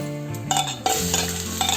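Hing dropped into hot oil for Punjabi kadhi pakora, giving a brief bright sizzle with stirring scrapes, close and alone over a tonal hum.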